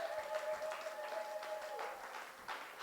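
A church congregation applauds and cheers for Jesus during a sermon, a dense, steady wash of clapping that holds for a few seconds with a sustained tone running beneath it.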